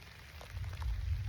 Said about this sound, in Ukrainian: Погодка, дощ класний.